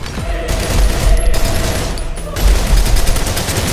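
Rapid gunfire from guns in the shooter game Snowbreak: Containment Zone, loud close bursts of shots crackling across the whole stretch with brief gaps between volleys.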